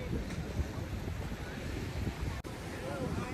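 Broad outdoor rumble of wind buffeting the microphone over washing surf on a beach in Pattaya, Thailand, steady and fairly loud, with a brief dropout partway through.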